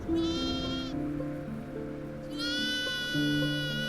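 Several goats bleat in quick succession, loud and close, their wavering cries overlapping and alone with no talk, near a crossroads in rain.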